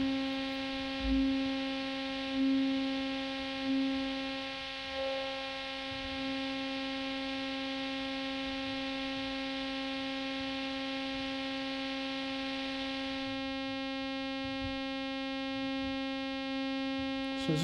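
Serge Variable Slope VCF synthesizer filter processing a steady buzzing drone while its slope is modulated, a quiet continuous harmonic hum with a subtle shift in tone partway through and no talking.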